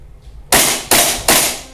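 Three sharp, loud cracks from an airsoft gas blowback rifle fired in single-shot mode, each shot spaced under a second apart with a hard recoil snap, no talking.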